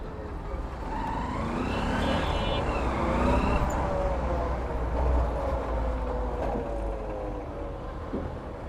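Helicopter-like whirring and droning from a motorcycle in motion, a steady rumbling ride noise with wavering tonal sweeps rising and falling throughout, fairly loud and continuous with no talking.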